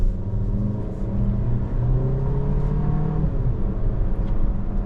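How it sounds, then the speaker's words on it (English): A 2025 Volkswagen Tiguan SE R-Line accelerates along the road, its engine hum rising through gears with steady road rumble heard from inside the cabin. "And the vehicle picks up and gets down the road, no problem at all."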